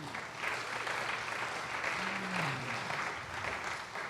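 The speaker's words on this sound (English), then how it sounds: "I think he deserves a round of applause" Applause from the audience at a 2014 Massachusetts gubernatorial candidates forum on disability issues, a steady wash of clapping holding at an even level for the whole stretch, with no speech over it.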